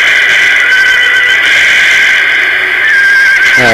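Horses whinny loudly and continuously in Empire: Total War, a regiment of cavalry in an online battle, with faint hoofbeats under the neighing and no talk.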